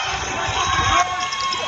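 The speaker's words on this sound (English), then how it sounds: "They've been standing over there, the little cheering section. And they are chanting the pitcher's name." A small cheering section of fans at an outdoor 16-inch softball city championship game in a Chicago park chants together, a steady crowd roar of voices at moderate distance with no clear breaks.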